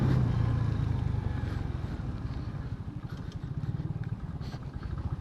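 Engine of a 100cc motorbike climbing uphill on a hilly road, a steady low throbbing drone with a fast pulsing rhythm, loud and close throughout with no talking.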